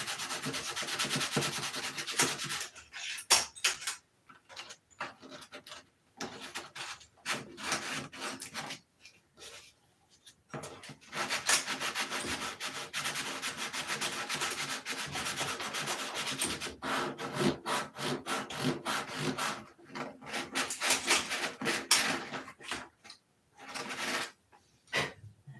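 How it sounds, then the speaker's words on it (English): Wood is sanded by hand in long repeated back-and-forth strokes, a rough scratchy rubbing broken by brief pauses between bursts, close and fairly quiet. "Keep sanding."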